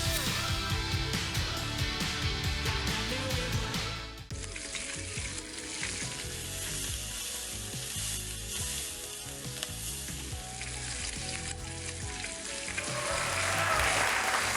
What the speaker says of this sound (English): Who doesn't love sizzling bacon?